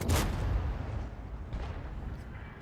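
In a World of Tanks style video game, a single heavy tank gun fires with a deep, close boom that rolls off into a fading rumble, with no voices.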